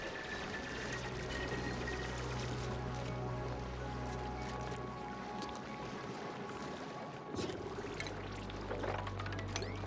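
Water flows and gurgles in the video game Oxygen Not Included, a soft continuous pouring and bubbling over a low steady hum, with a slight surge toward the end.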